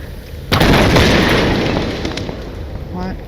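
A loud, close explosion from Tomb Raider Definitive Edition bursts suddenly and rumbles on as a dense roar that slowly fades over a few seconds, with no voice over it.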